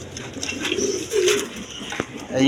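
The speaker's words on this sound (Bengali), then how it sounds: "এখানে আরেক পেয়ার বাঞ্জা কবুতর আছে" Pigeons coo in low, throaty rolls from a loft of breeding pairs, close and clear, with a brief flutter and soft background noise and no talking.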